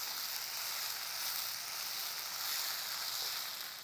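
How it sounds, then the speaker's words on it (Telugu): Ginger garlic paste fries with onions in a pan, giving a steady, soft, continuous sizzle with no talking, for a hotel-style rajma masala curry. "ఈ వెల్లుల్లి పేస్ట్ వేసాక ఇది వేగిపోయింది కదా"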